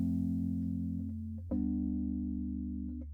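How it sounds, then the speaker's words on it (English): Ableton Electric synth playing a plain electric piano tone with modulation off: two sustained low chords, the second struck sharply at the midpoint, each ringing with a soft bell-like attack and gentle decay. "It just sounds like a little electric piano thing"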